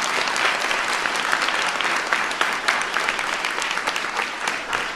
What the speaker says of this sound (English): Give Olivia a big round of applause